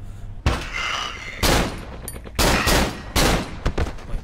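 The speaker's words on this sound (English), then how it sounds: "Wait, how many shots was that?" Four loud gunshots from a dual-wield pistol in the horror game Cry of Fear, fired alone at roughly one-second intervals inside a sewer, each with a sharp crack and a lingering echo.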